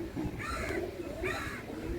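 Pigeons kept by a breeder coo softly nearby in two short rolling phrases, under quiet background noise.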